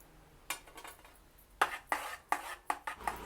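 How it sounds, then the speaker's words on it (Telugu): A ladle mixing green chilli paste into a potato batter for potato vadiyalu, heard as a series of close, sharp metallic clinks and scrapes against the vessel, about six distinct strokes in the latter half, with no talking. "స్టవ్ కట్టేసిన తర్వాత మనం రెడీ పెట్టుకుని పచ్చిమిరపకాయ ముద్ద వేసి కలపాలి ఇందులో."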